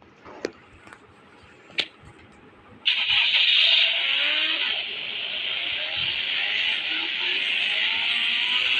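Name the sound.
car engine driving in a video game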